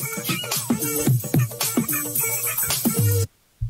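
A vocal raised one octave with a Reaper pitch-shift plugin, a bright, chipmunk-like sung line with clear harmonic contours, loud and dry, running continuously before cutting off abruptly near the end.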